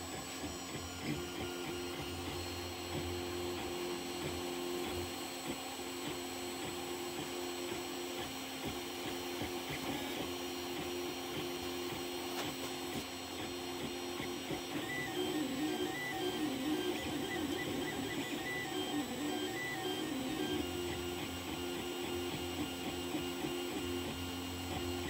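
A 3D printer printing a motor winder for rubber-powered models whirs and hums steadily with motor whine and faint stepping tones, its sound shifting slightly partway through, with no talking.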